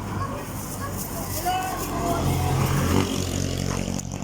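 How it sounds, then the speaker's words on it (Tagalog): A truck rumbles past on a rainy road beside a creek, a steady low engine drone swelling toward the middle and fading, with people talking nearby throughout. "Ayan, truck na to."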